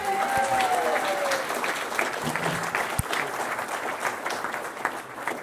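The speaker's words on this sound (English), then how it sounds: "Give yourselves a round of applause." A crowd at a political party launch rally in Newcastle applauds in a thick, sustained burst of clapping with a few faint voices, easing slightly toward the end.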